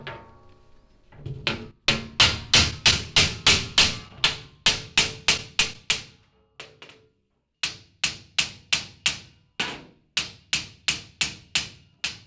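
A hammer strikes a circular saw blade being straightened, landing a steady run of sharp, ringing metallic blows in quick rhythmic bursts, with a couple of short pauses between series, close and loud with no talk.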